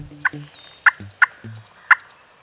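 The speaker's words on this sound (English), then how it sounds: "We heard a few different groups of toms or jakes, and they were gobbling back and forth" Wild turkey toms or jakes gobble back and forth at the edge of a field during a hunt, with several sharp, distant gobbles answering one another over a quiet outdoor background.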